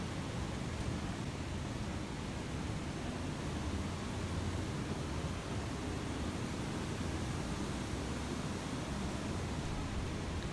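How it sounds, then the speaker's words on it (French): A waterfall in the video game Techtonica roars as a steady, even wash of broadband rushing water, constant and moderately faint, with no other sounds or voices over it. "Là, j'entends une cascade."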